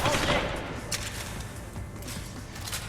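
Gunfire in the stealth shooter Deus Ex: Human Revolution, a dense burst of loud shots and impacts over constant game noise, with no clear single reports standing apart.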